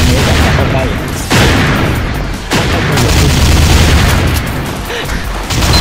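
Heavy gunfire in a shooting video game, with loud booming shots and bursts layered over a dense, constant din and a few sharper blasts, while players talk excitedly over the top.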